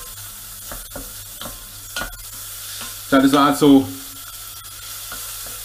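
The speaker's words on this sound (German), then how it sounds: "So, den Speck rein. Dann einfach nur kurz ein bisschen anbraten, ein bisschen auslassen." Bacon is fried in a hot pan for potato soup, making a soft, steady sizzle with stirring scrapes under someone talking in German nearby.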